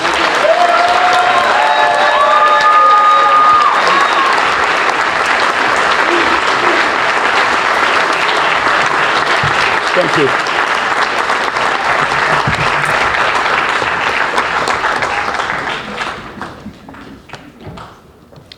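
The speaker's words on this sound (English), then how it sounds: "He deserves your applause." A school audience at a spring varsity jacket night gives student athletes loud, sustained applause, dense clapping filling the hall for about fifteen seconds before thinning out and fading, with a brief spoken thanks near the start.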